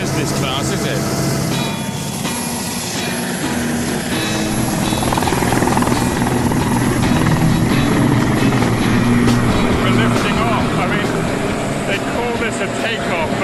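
Loud, continuous rotor and turbine roar of a Sea King helicopter taking off, heard from inside the cabin, with a steady engine whine and heavy vibration throughout.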